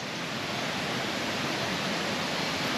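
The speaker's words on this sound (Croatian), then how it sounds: "Ovo i ova je rijeka." The cold Janj river rushes past nearby at Šipovo, a loud, steady, broadband roar of flowing water with no breaks.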